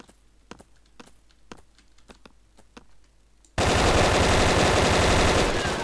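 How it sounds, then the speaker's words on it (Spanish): Video game gunfire in Brick Force: sparse single shots and clicks at first, then a sudden sustained roar of rapid automatic fire that fills the rest, loud and close, no talk. "pero si te estaba disparando"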